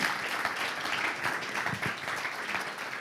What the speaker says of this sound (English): Have another applause for Martin